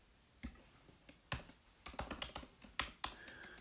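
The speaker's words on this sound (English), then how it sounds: "let me just type this in." Someone types on a computer keyboard while entering a calculation, giving sparse, irregular keystroke clicks that bunch into short bursts, close and fairly quiet with no talking.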